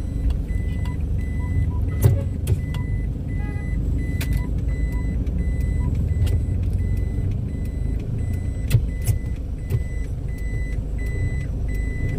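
A vehicle manoeuvres on a road during a long overland trip from Manila to Mindanao, with steady repeating reversing beeps over continuous engine and traffic rumble, close and fairly loud.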